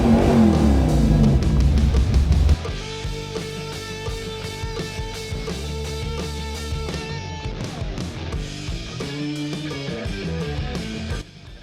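A big-block Chevy V8 fitted with a Holley mid-mount accessory drive, revving hard to high RPM, a loud roar at first that settles into a sustained, fluctuating high-pitched engine whine.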